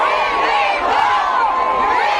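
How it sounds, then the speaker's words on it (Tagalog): Cheering and shouting from a big Philippine rally crowd, a brief loud continuous roar of many voices with wavering yells on top. "Grabe yung hiyawan ng mga tao."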